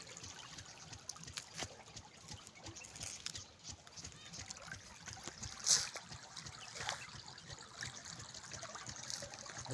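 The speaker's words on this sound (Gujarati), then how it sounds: "જોઈ શકો છો આ પાણી વહી રહ્યું છે" Water in a small branch of the Narmada canal flows with a steady soft trickle and rush, fairly faint outdoors, with a brief sharp sound partway through.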